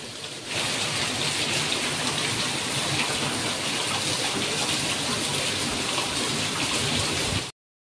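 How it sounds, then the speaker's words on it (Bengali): Heavy rain pours down steadily in a dense, loud roar of drops during a thunderstorm in Puri, Odisha, holding constant from start to finish with no voices. "তো তোমরা দেখতে পেলে বৃষ্টি ঝমঝম করে নেমেছে"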